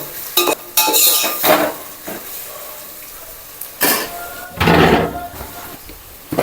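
Onions frying with salt in a pan for a homemade biryani, with scattered bursts of stirring and the scrape of a utensil against the pan over a faint sizzle, loudest near the end.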